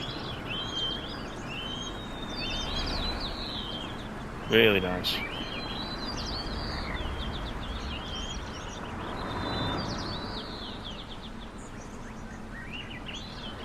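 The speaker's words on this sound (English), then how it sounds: "Even the ambient noise, you can hear the birds singing there." Birds chirp and sing as ambient sound in the Fernbus Simulator driving game, bright repeated calls over a soft background hum, with someone talking briefly and a short sharp noise midway.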